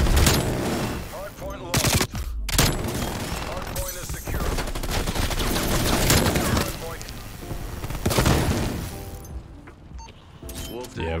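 Bursts of AK-47 gunfire in the shooter game Call of Duty Cold War, loud rapid automatic volleys with short pauses between strings of shots, alongside other in-game effects.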